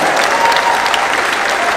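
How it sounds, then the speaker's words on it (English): Audience clapping after a children's hula performance at an outdoor Hawaiian festival on Maui, a dense, steady burst of close applause lasting the whole moment. "Clap again"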